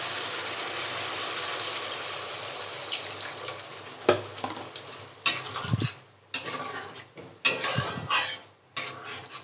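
Water being stirred into spices in a pan for egg curry, with scraping, rubbing spoon strokes and soft sizzling in irregular bursts, close and fairly quiet with no talking.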